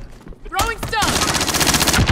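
Rapid gunfire in the Call of Duty: Modern Warfare video game, a dense continuous burst after a brief whooshing swell, loud and close with faint voices beneath.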